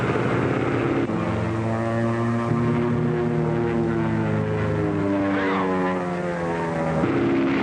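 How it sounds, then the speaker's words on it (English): A propeller-driven airplane drones steadily overhead for the whole stretch, its sustained engine hum shifting in pitch as it passes. "Hey, Jerry, that looks like the same plane bombed us on the road the other day."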